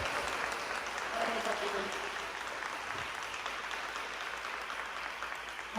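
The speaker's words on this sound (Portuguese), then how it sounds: "Vamos aplaudir a palavra de Deus?" Church congregation applauding steadily throughout a worship service, a dense, even wash of clapping with no talk over it.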